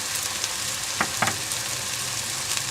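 Ginger garlic paste with black pepper, salt and spices frying in a pan over softened onion, giving a steady sizzle with a couple of brief stirring clinks.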